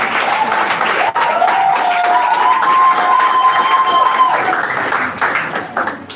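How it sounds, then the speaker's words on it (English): An audience at a University of Jos chapter event applauds and cheers for their president, a dense, loud wash of clapping with shouts and a whistle-like tone rising through it, fading slightly at the end. "Ladies and gentlemen, let us know how you applaud for your president"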